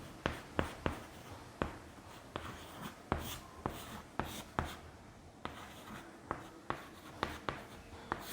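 Pen writing on paper by hand, an answer to a class 11 maths inequality problem, with repeated short taps and scratchy strokes at a steady, close, quiet pace and no voices.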